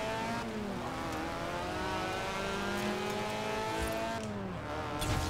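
An old D-Class car's engine in the Forza Horizon 4 racing game revs and drones with rising and falling pitch, a steady mechanical hum with an annoying transmission whine, fairly faint and continuous.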